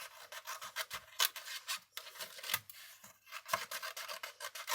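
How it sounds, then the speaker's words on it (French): Paper roses cut from scrap paper, snipped out in a quick series of close, crisp rasping cuts with short pauses between strokes, no voices. "on découpe nos fleurs"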